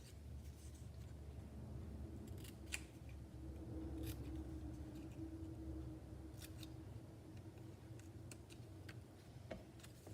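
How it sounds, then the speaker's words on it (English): Scissors snipping a banner end into strips of designer series paper for a card, a few quiet scattered snips over steady low room hum. "So I'm going to cut a banner end out of these."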